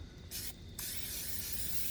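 Two short bursts of cooking spray followed by a longer continuous hiss, close up over a low background rumble, at a campsite.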